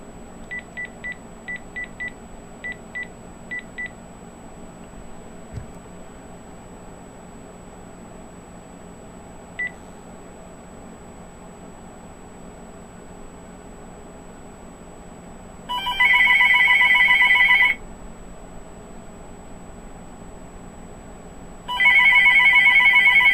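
A magicJack Plus phone adapter dials out with a quick run of touch-tone beeps, followed by two long, loud bursts of ringing separated by a quiet pause over a faint steady hiss.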